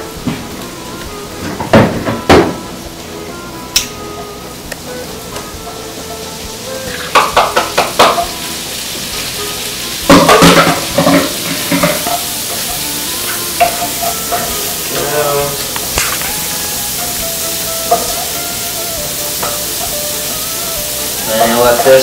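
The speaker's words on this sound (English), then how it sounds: "let this probably cook on in the saute pan for about 2 to 3 minutes" Prosciutto frying in a saute pan with a steady hiss of sizzling fat, punctuated by stirring scrapes and clinks of a utensil against the pan; a voice speaks at times.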